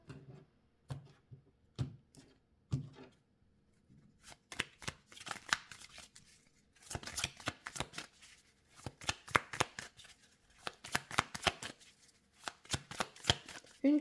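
A deck of cards is cut and shuffled during a tarot-style reading, giving quick papery riffles and snapping flutters in uneven bursts, close and fairly soft, with a few separate slaps at the start and denser shuffling later.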